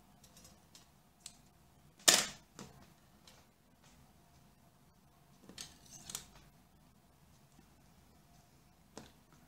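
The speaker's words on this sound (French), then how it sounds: "Donc je coupe le fil rouge." Scissors cut through red knitting yarn during a knitted Christmas doll dress project, giving one sharp snip near the start among faint light clicks and handling sounds in an otherwise quiet room.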